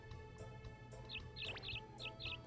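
Small birds chirp in quick repeated bursts of high tweets over a low steady background hum, in the video game Harvest Moon 64.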